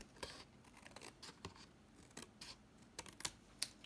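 Scissors cut paper for a junk journal envelope, giving a quiet, close series of crisp snips and scratchy clicks in an uneven rhythm.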